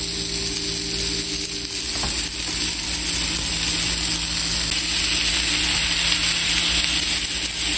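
Burger patty frying in a pan while bread toasts in a little butter alongside, a steady, close, continuous sizzle with no talking.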